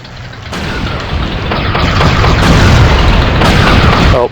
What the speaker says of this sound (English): I'm using my bombardments from this distance